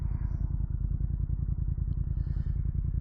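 Steady idling rumble of a 2024 Triumph Speed Twin 1200 twin-cylinder motorcycle engine, a close, even pulsing throb that holds level and unbroken throughout.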